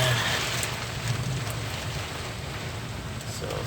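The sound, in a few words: first rain of 2021 in Jazan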